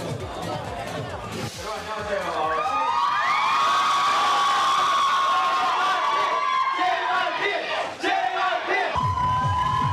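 A crowd of office workers at a Friday-night party with the cast of the movie 500만 불의 사나이 cheers and screams loudly and continuously, rising into sustained shrieking, with voices shouting throughout.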